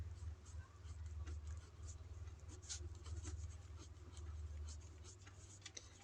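A pen or chalk writes out a quadratic equation formula by hand, giving faint steady scratchy strokes against a constant low hum, with no talk over it.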